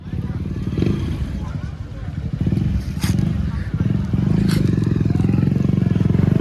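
A motorcycle engine roars and revs close by as the rider does a wheelie, its loud rumble rising toward the end, with voices talking over it.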